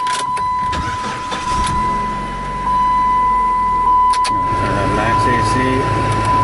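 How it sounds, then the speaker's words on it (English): Car engine starting up during an AC leak check, a cranking whir that catches into a steady idle rumble, loud and close, with someone talking over it. "We're going to take and start up the vehicle."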